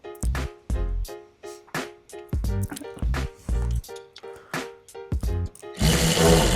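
A drill bores a small hole in the frunk of a Tesla Model Y Juniper Performance, running in short repeated bursts with brief pauses, close and loud, ending in a harsher continuous whir.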